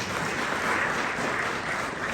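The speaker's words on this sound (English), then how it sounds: "That's an applause line." Audience applause at a candidates' forum for a congressional district seat: a brief, even wash of clapping from a crowd, steady throughout with no voices.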